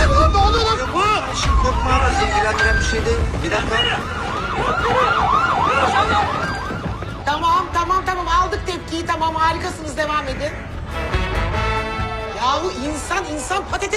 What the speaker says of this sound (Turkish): Çalsın, çalsın sirenler.